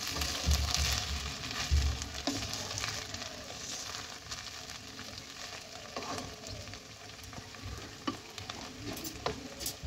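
Two to three spoonfuls of ghee stirred into food in a hot pan. A continuous crackling sizzle with scraping stirs fills the clip, louder at the start and easing slightly toward the end.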